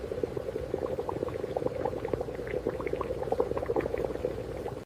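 Steady, vigorous bubbling of thick sugar syrup boiling in a vacuum, with dense popping bursts throughout, close and continuous with no voices.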